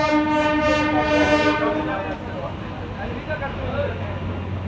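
An Amrit Bharat Express pulls out of platform 1 at Rampurhat, its loud, sustained horn sounding for about two seconds before giving way to a steady, heavy rumble of the train accelerating away.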